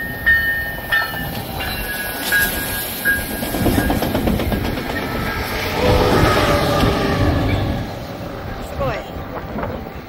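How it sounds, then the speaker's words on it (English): A passenger train coming from Los Angeles passes through Del Mar, with a rising, rolling roar of cars on the rails that swells in the middle and then fades, while people talk nearby. "So I knew a train was coming."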